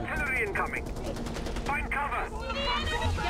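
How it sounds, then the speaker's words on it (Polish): Rapid bursts of gunfire from the video game Far Cry 4 crackle in quick succession, some rattling like automatic fire, mixed with speech in the background. "O, strzał!"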